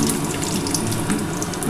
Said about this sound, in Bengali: আমি হালকা করে একটু বাদামগুলো ভেজে নিই বন্ধুরা